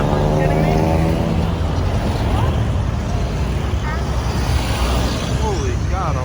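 Cars rush past on a busy road close by, loud and broad with rising and falling engine and tyre roar, and excited voices talk over the traffic.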